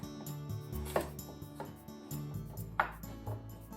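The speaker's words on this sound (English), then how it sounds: "Make diagonal slices." A kitchen knife cuts peeled carrot into diagonal slices on a cutting board, giving a series of quiet, evenly spaced chops and taps over a low background hum.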